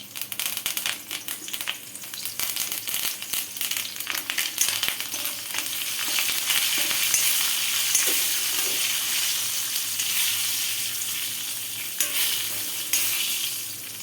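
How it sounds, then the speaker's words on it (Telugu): Mustard seeds, cumin, a few fenugreek seeds and curry leaves sizzle and crackle in hot oil for a tempering, a loud continuous fry with faint clinks of a stirring spoon. "ఆయిల్ బాగా వేడయ్యాక ఆవాలు, జీలకర్ర, కొంచెం లైట్గా 2-3 మెంతులు వేసేసుకొనేసి ఇలా కరివేపాకు కూడా వేసుకోవాలండి"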